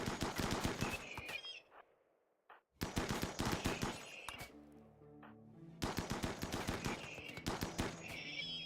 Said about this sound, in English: Now when they step away, we just shoot them again.